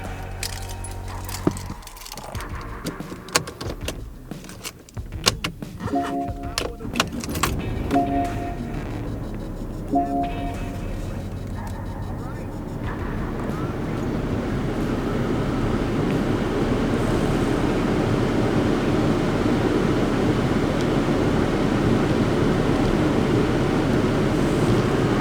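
A new car starts up after some rattling and key jingling, then settles into a steady, moderately loud engine idle that continues without talk.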